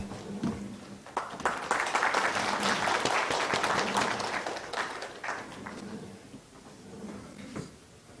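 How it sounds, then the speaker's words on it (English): An audience at a regional wetlands restoration workshop claps steadily for several seconds, a moderately loud indoor round of applause that swells and then tapers off near the end. "Let's clap for him"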